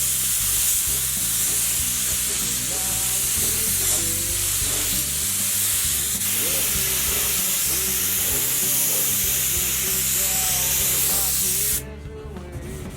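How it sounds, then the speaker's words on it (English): Spray gun laying clear coat on a Harley-Davidson trunk part in a custom bike shop, a steady close hiss running continuously and loud before cutting off near the end. "he wants me to spray a little bit first"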